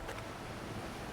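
Water in the fantasy game Monsters & Memories, a steady rushing wash like surf or moving water, continuous and fairly close for the short stretch, with no talking.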